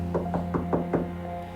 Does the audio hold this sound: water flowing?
no